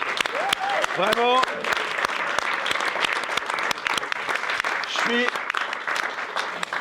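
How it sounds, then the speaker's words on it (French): Studio audience applauding at the opening of a special French talk-show broadcast, dense steady clapping throughout, with a voice speaking briefly over it. "Et on peut applaudir le public."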